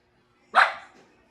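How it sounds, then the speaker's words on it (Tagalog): A young dog gives a single sharp, close bark that trails off into brief quiet. "Sabi ni Men, ang tapang naman na aso niyo"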